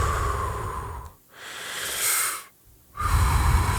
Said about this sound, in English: and then you exhale